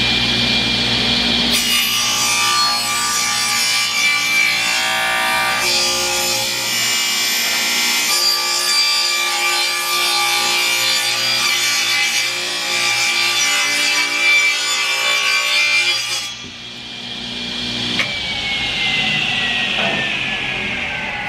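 A hand saw cuts through a wooden board for a workbench, loud, close, continuous rasping strokes that stop abruptly near the end, followed by a quieter tail.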